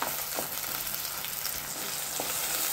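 Chopped tomato sizzling in a hot pan for a Kerala sardine curry, a constant loud hiss with a couple of faint scrapes from stirring and no talking.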